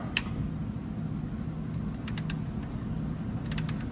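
Wrench loosening a small 8mm tensioner bolt on a Ford 3.0 engine, heard as a few brief, sharp metallic clicks over a steady low background hum.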